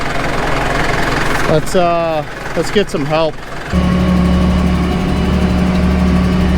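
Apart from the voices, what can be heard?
tractor engine idling while stuck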